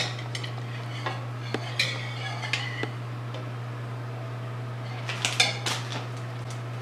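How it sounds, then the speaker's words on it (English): Batter for cupcake donuts being mixed in a bowl, with scattered clinks and scrapes of a utensil against the dish over a steady low hum, quiet and close, no talking. "You're gonna mix till it's all blended."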